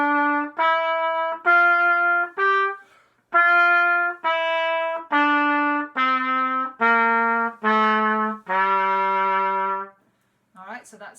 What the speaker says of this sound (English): So we're going to practice the first scale from the sheet, which is A Dorian.